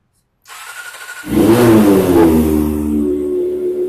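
After a brief click and starter whir, a Kawasaki ZX25R motorcycle engine fires up loudly and revs, then settles into a steady rumbling idle nearby.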